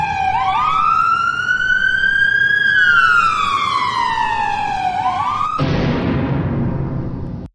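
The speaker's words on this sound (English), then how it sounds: "is that police car sirens?" A police siren wails loudly and continuously, its pitch sweeping slowly up and down, then cuts abruptly into a different harsher tone near the end.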